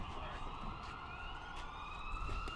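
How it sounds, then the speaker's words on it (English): Sirens wail faintly in the distance during a men's round-of-32 match at a national tournament in Pittsburgh, a rising tone sweeping steadily over a noisy background of crowd and court ambience. "There's some sirens in the background."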